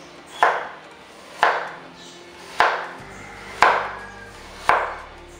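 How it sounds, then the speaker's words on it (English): A sharp knife julienning carrots at an angle on a cutting board, five crisp evenly spaced chops about a second apart, each a clean close thud with a short decay. "So I'm going to julienne the carrots, but I'm going to cut them at an angle like that"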